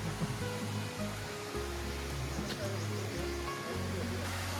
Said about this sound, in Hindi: ये पानी जो है ये रुक्मणी कुंड का ही आ रहा है